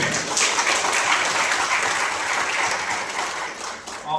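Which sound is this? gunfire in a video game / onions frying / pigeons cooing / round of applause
round of applause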